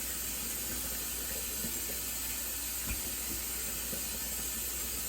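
A kitchen tap runs into a sink, a steady broadband hiss of flowing water heard close and constant, with a faint knock partway through.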